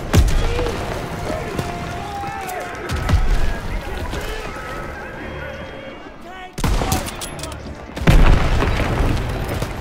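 Heavy booming tank cannon blasts and explosions in Call of Duty WW2, loud and repeated over several seconds with gunfire and rumble, while voices talk over the battle.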